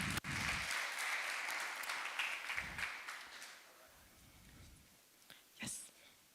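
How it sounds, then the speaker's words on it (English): Audience applause welcoming a speaker on stage at the Wasa Future Festival, a burst of clapping that gradually fades away, followed by a few faint scattered sounds. "please give him a round of applause"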